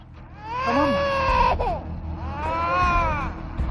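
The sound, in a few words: baby crying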